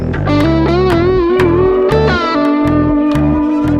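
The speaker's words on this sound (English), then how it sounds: "Gonna stick on the delay." Clean electric guitar phrase through a BOSS GT-1000 Core delay effect, repeating echoes trailing each note in a steady rhythm, played loudly with no speech.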